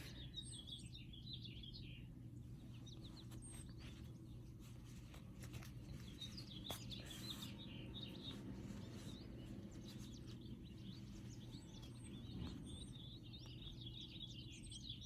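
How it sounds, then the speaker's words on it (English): Faint birds chirping and tweeting in scattered bursts over a quiet, low background hum, soft and distant throughout. "Can you hear the birds?"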